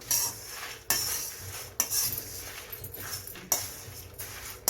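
Red chillies and cumin being stirred in a dry pan with a metal spoon, several sharp scraping clinks at irregular intervals over a faint dry crackle, close and fairly quiet.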